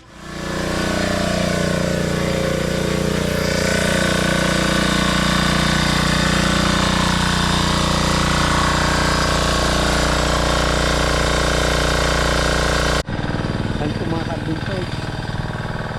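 A water pump engine starts and runs with a loud, steady, rough mechanical drone that stays close throughout, then drops abruptly in level near the end while still running.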